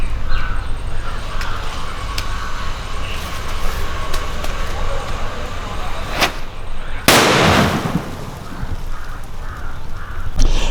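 A Valangaiman country firecracker (naattu vedi) goes off in one sharp, loud outdoor blast whose broadband burst decays over a couple of seconds, preceded by a smaller crack and steady background noise.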